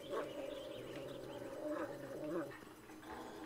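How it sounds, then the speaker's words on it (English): A dog companion in the Blair Witch video game growls steadily and low at close range, one long continuous rumble with slight swells in loudness. "You're just growling at everything."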